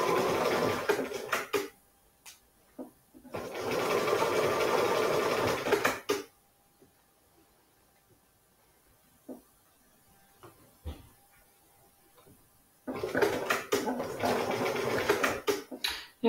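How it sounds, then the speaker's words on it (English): A sewing machine running straight stitches along the edge of a lavender bag's fabric, two close, steady whirring bursts of a couple of seconds each, separated by quiet handling and clicks, with a third burst at the end. "we turn the machine back to straight stitch and place that just under the foot there and along the guide there."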